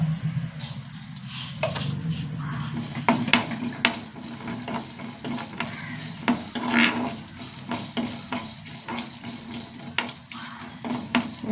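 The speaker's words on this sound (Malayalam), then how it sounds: "ഉലുവയും കടലപ്പരിപ്പും ഒന്ന് ചൂടാവട്ടെ" Chana dal and fenugreek seeds stirred and roasted in a hot pan: continuous scraping and rattling of a spoon against metal over a light sizzle, close and fairly loud with no voices.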